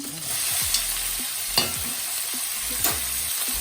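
Steady sizzling of minced meat frying in a pan with garlic and ginger, with occasional scrapes and clinks of a spoon stirring through it.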